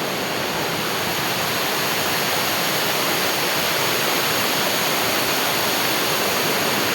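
Catherine waterfall in Kotagiri pours in a dense, unbroken roar, loud and close, a constant wash of falling water with no other sounds standing out.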